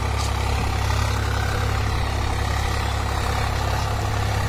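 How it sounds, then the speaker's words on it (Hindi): A Swaraj 52 HP tractor (744 XT) engine runs steadily at a low idle, a loud, close, continuous deep rumble with no talk. "स्वराज 52 HP ट्रैक्टर है भाइयों, हमारे वाला स्वराज भाइयों। ट्रैक्टर की साउंड"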